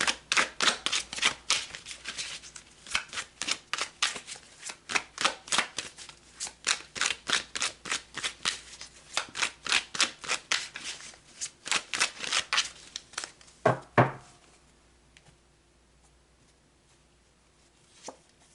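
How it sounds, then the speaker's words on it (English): Tarot cards are shuffled and pulled in a rapid, rhythmic series of crisp riffling slaps close up, with a louder snap near the end followed by quiet handling. "All right, let's pull some more cards."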